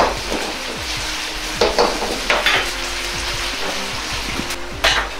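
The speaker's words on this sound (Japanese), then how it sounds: "とろみが出てきたら、揚げた肉と野菜を入れ絡めます。" Fried pork and summer vegetables, tomato among them, are stirred and coated in thickened sweet-and-sour sauce in a hot pan, giving a steady close sizzle with scraping utensil clicks and a few louder stirring strokes.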